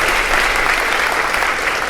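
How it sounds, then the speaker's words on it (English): A crowd at a community meeting in Pine Bluff, Arkansas applauds steadily, dense clapping filling the room at a constant, fairly loud level throughout. "Let's give them a round of applause as well."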